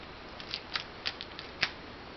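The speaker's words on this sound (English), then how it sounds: "take a pair of scissors and I cut off the excess" Scissors trimming the excess from a damaged record album cover, a handful of quiet, crisp snips spaced irregularly over faint background hiss.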